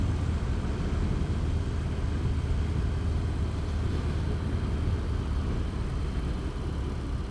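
A 2018 Harley-Davidson Fat Bob cruising on the road at low, restrained revs during running-in, with a steady deep engine rumble blended with broad wind and road roar and no breaks.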